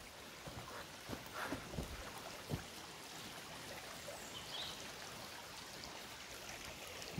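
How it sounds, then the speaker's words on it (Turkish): A forest stream runs steadily over rocks below a steep wooded slope in the countryside, a continuous close wash with a few splashier gurgles and no voices. "Böyle de dere devam ediyor."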